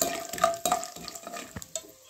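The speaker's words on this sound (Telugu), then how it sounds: "తర్వాత కొద్దిగా జీడిపప్పు వేసుకుందాం ఫ్రెండ్స్." Cashews frying in oil in a pan for lemon rice, with a soft steady sizzle, a few clinks of a spoon against the pan and light stirring, heard close and without talk.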